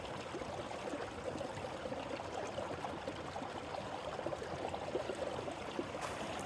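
A small mountain creek at Day Creek, California flows with a continuous soft, even rushing and trickling, fairly faint and steady with no voices.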